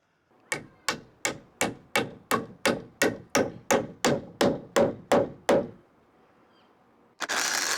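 Fourteen loud, evenly spaced hammer blows drive nails into a wooden shed rafter while building a gable roof, each strike a sharp close crack, followed by a pause and then a burst of noise.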